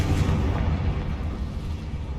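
Confringo explosive spell blast in Hogwarts Legacy: a loud, deep, rumbling burst that fills the short stretch and stays heavy throughout without fading, with no voices over it.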